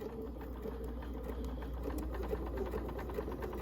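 Sewing machine stitching a double wedding ring quilt block, a steady, fairly quiet mechanical hum with fine rapid needle patter throughout.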